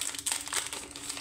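Crinkly plastic packaging of a small lucky prize box of seeds being torn open, in quick, close, rustling bursts, soft overall and with no voices.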